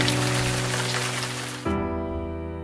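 Steady rain falls in the Irish countryside, a dense, close hiss that continues without a break. A low vehicle hum sits underneath and shifts partway through.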